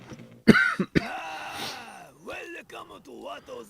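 A man with a lingering illness gives a sharp cough and a rough throat clear up close, followed by groaning, voiced sounds.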